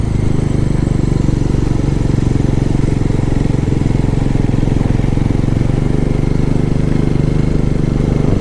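A Bajaj Pulsar N160 motorcycle runs after a fall, its engine throbbing in a steady, loud, close idle with continuous low mechanical clatter.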